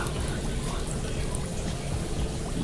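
A continuous splashing rush of water and guppies pouring out of a net, dense and steady from start to finish, close and fairly loud.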